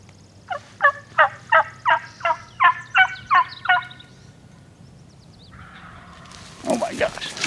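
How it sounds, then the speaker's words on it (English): Wild turkey gobbling in Idaho, a run of about ten loud, rapid rhythmic gobbles, followed by a quieter pause and a burst of sharper noise at the end. "See if I can get this bird to gobble again."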